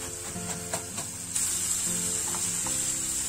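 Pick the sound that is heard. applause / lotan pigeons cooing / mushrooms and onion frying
mushrooms and onion frying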